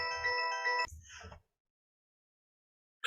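A mobile phone ringtone from an incoming call plays as a steady, melodic tone for under a second, then cuts off into a brief muffled rustle before silence.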